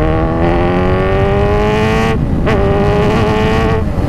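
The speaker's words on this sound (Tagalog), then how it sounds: "Dagdag mo pa yung ingay ng motor." A Kawasaki Z1000R motorcycle engine drones loudly on an expressway, its tone rising and briefly dipping as it revs, with steady wind rush underneath.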